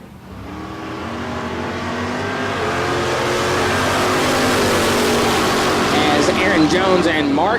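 Dragsters at a bracket drag race at the Texas Motorplex roar down the strip, a loud, sustained engine drone building steadily in intensity, with crowd noise or announcer voice blended underneath.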